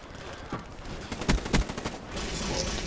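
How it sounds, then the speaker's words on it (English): Gunfire in Call of Duty Black Ops 3, with a couple of sharp close shots among a busy, noisy battle backdrop and a player talking over it. "There we go again with the two guys shooting me at one time."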